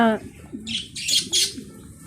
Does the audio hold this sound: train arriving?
no